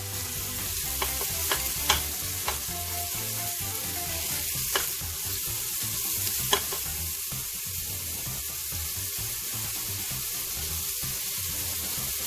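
Onions frying in a little oil for moong masoor dal, a steady broadband sizzle with sharp clinks of a spoon against the pan scattered through the first seven seconds, then a continuous even crackle.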